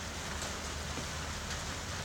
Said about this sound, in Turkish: buraya birazcık yağmur geliyor